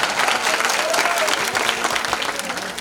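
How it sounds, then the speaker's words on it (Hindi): Loud, dense applause from an audience at a Shrimad Bhagavat Katha religious gathering, a steady wash of many hands clapping continuously throughout, close and full, with crowd murmur mixed in. "एक बार जोरदार तालियों की सेवा करें।"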